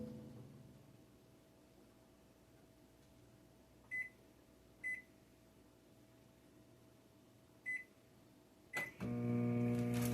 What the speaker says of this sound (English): Pop this in the microwave for a few seconds.